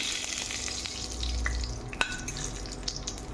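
A bay leaf and dry red chillies fry in hot oil with a steady crackling sizzle, close and continuous, punctuated by a sharp pop or utensil tap midway.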